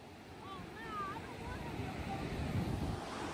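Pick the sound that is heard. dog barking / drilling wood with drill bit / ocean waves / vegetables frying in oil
ocean waves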